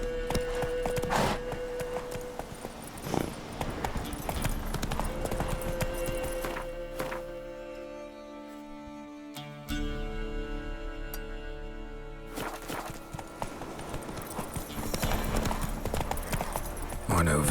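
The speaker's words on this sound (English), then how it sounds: "Horses!" Horse hooves clatter at a rapid gallop in The Witcher 3: Wild Hunt, loud and continuous, with a voice speaking over them and a brief quieter stretch midway.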